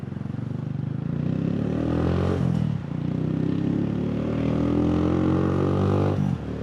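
A manual motorcycle on a commute drones close and loud, its engine note climbing through gears, dipping briefly at a shift and then rising again over steady road noise.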